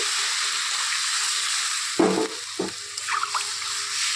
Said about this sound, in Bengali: এর মধ্যে এখন দিয়ে দিব ঝোল